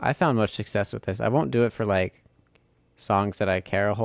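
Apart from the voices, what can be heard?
No everyday noises stand out.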